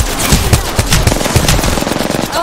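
Rapid automatic gunfire in the battle game Apex Legends, a loud, close burst of repeated shots with no talking over it.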